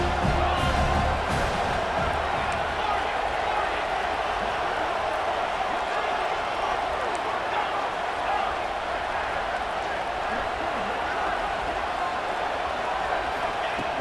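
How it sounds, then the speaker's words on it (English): Stadium crowd noise from the football video game EA Sports College Football 26, a loud, sustained roar of cheering fans filling the whole stretch, with commentary voices running over it. "It's early, but this crowd is fired up."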